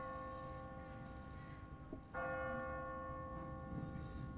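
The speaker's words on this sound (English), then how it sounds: "What kind of church bell goes off at 20 past the hour?" Church bell from Telltale's The Walking Dead Season 1 Episode 5, set in Savannah, ringing automatically on a timer: one loud, resonant strike midway that rings on with a long sustained tone over a steady low ambient hum.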